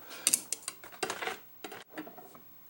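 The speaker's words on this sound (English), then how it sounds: "put the cutting bit in the jaw on the right and just barely snug it up" A cutting bit is snugged into the right-hand jaw of a locksmith's space-and-depth key-cutting machine, giving a close, irregular string of short metallic clicks, ratcheting rattles and small clanks with no voices.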